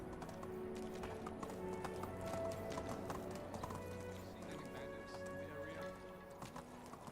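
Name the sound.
horse riding clip-clop in video game Medieval Dynasty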